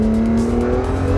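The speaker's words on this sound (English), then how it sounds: "The engine pops and cracks just the way you would expect from a supercar." Honda NSX supercar engine revving hard, a loud, steady close-up drone with a rising whine and rough, crackling texture throughout.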